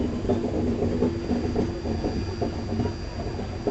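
Swarna Jayanti Express passenger train running on rails while taken onto a loop line at a station, heard from inside as a steady low rumble with rhythmic wheel clatter, loud and continuous.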